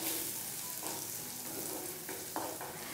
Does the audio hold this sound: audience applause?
no